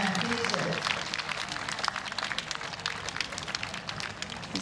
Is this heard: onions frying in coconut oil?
no